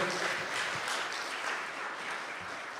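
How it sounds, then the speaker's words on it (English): Applause for a debater named Admiral Gibbs at a live political debate stream, a fairly faint, even wash of clapping from a distant crowd lasting a few seconds. "Give him a round of applause."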